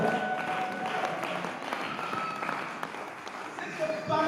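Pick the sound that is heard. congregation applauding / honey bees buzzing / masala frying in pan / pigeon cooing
congregation applauding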